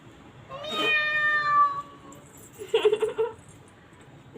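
A person imitates a cat with a drawn-out, high meow lasting about a second, then a shorter, choppier second meow-like sound follows, both close and fairly loud with no other talk.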